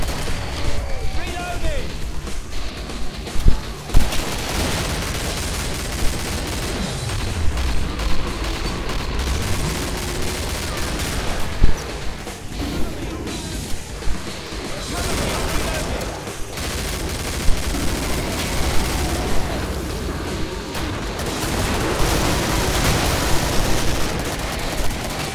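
Continuous gunfire in the video game Killing Floor, dense bursts of shooting and booms layered over a constant noisy battle din, with a voice talking throughout.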